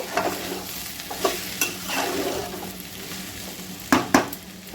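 Flattened rice stirred into fried vegetables in a frying pan, with continuous sizzling, a spatula scraping and clinking against the pan, and two louder knocks near the end, no voices.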